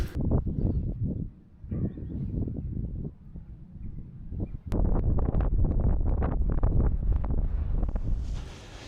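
Wind blowing across open downlands on a cold walk along the Monarch's Way near Old Winchester Hill, buffeting the microphone in loud, gusty roars that briefly ease, then grow stronger and more constant.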